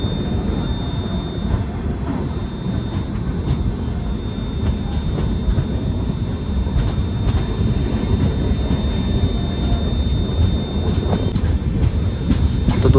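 Devagiri Express running on the line just after leaving Purna Junction, a steady loud rumble of the carriages with faint rhythmic clatter throughout, heard from on board.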